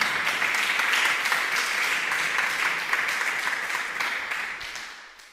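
A church congregation claps loudly and steadily, sustained applause filling the space before slowly tapering off.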